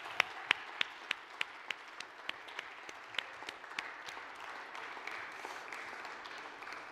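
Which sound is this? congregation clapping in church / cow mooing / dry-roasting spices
congregation clapping in church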